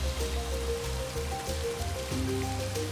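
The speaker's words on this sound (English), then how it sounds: "Rain here in the Al Hajar Mountains is erratic and unreliable." Heavy rain falls in the Al Hajar Mountains, a steady close patter of drops on the ground with a faint hum beneath it and no talking.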